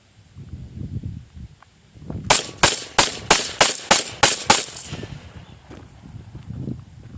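A handgun fired in a traditional shooting stance, eight sharp, loud shots in quick, even succession, close by, between quieter stretches of movement and background noise.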